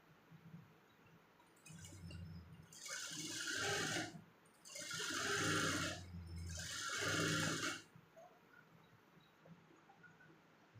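A sewing machine stitches a navy blue printed blouse, sounding in three sustained whirring runs of about one to two seconds each, separated by brief pauses, with no talking.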